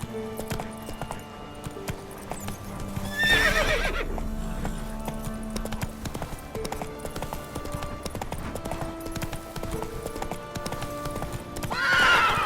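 Roach, the horse in the video game The Witcher 3: Wild Hunt, galloping with brisk rhythmic hoofbeats throughout, broken by two loud whinnies near the start and end.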